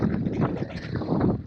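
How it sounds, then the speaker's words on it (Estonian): Strong, cold wind buffets the microphone outdoors in a steady, loud broadband roar with gusty swells and no voices. "Täiesti kohutav tuul."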